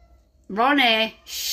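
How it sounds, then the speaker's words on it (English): A cat lets out a single drawn-out meow, close and clear, followed by a soft hushing voice. "that's the cat crying"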